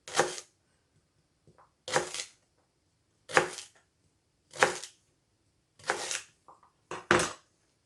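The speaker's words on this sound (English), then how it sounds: "And then I'm just slicing it thin." A knife slices burdock root thin on a cutting board: six crisp, evenly spaced chops, each a sharp short crack with some small taps between them, close and quiet with no talking.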